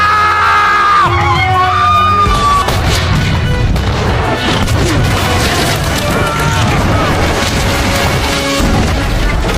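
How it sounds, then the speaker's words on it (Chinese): Warships in a Pirates of the Caribbean film fire cannons at each other at close range, with loud booms and crashes amid shouting crew, tense music and a dense, continuous battle din. "两方军舰相互开炮"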